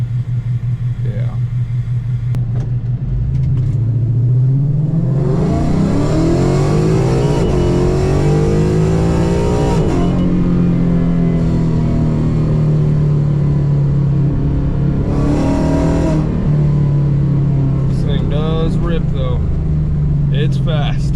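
A Coyote V8 swapped into a 1991 Ford Mustang Foxbody rumbles at idle, then climbs through long, loud acceleration pulls heard from inside the car, with people talking under the engine noise.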